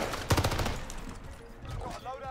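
Loud, close bursts of automatic gunfire come from an online shooter video game, with rapid overlapping shots that crackle and then fade as the action continues.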